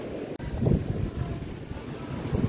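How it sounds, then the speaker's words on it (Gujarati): Strong seashore wind buffeting the microphone in continuous low rumbling gusts, loud and close, with a faint wash of surf beneath. "પવન ને જમાવટ છે"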